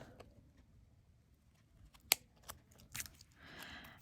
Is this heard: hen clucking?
no